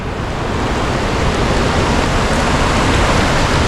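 Rushing water of the Guadiaro river in flood beneath a bridge, a loud continuous roar holding steady and close, with no voices.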